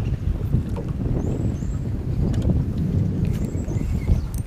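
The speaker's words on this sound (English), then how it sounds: "Wind's starting to pick up just a little bit too." Wind rises outdoors on a fishing outing, a steady low rumbling buffet across the microphone with faint higher chirps above it, continuous and close.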